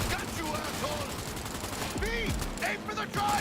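Sustained gunfire aimed at a vehicle's driver in a video game, dense continuous shooting with chirping ricochet-like tones layered in and a voice talking over the racket throughout.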